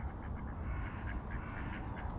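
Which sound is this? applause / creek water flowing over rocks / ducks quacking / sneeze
ducks quacking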